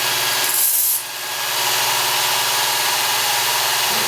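A knife edge drawn once along the abrasive belt of a Work Sharp Ken Onion belt sharpener, a steady continuous grinding hiss over the machine's motor hum, close and fairly loud, with a brief dip early on.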